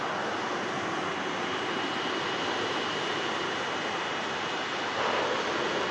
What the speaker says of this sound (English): Gulfstream climbs out.